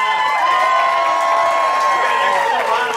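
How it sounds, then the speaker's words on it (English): A crowd cheers and shouts at a live event, a steady loud wash of voices with whoops and some applause underneath, sustained for the whole stretch. "We've got an excellent round of applause here"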